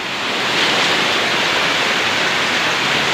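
Heavy rain pouring down in a dense, steady roar that stays loud and unbroken throughout, no voices.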